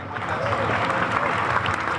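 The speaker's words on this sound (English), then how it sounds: "Clap it up" Steady crowd applause at the unveiling of The Embrace memorial on Boston Common, a loud, dense wash of many hands clapping without pause.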